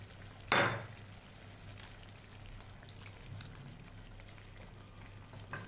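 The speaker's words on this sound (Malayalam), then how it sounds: "വെള്ളവും ഒഴിച്ചു കൊടുത്തു" Water splashes briefly into a pan of cauliflower kurma, a short loud pour followed by a quiet, steady simmering sizzle.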